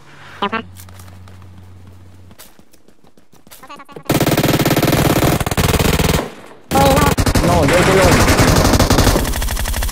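Machine gun fire from PUBG Mobile bursts out loud and sustained in two long stretches, with a short break between them, after a quieter opening with a few sharp clicks; voices talk during the action.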